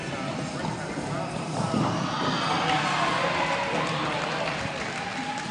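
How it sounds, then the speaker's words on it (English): Spectators cheering at a roller derby bout, a steady wash of crowd noise with rising shouts and applause, and a commentator talking over it. "the crowd goes wild"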